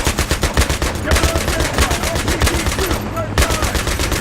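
Sustained rapid machine-gun fire from a tank-mounted gun in the video game Battlefield 3, loud and continuous with dense rattling bursts and a brief gap near the end.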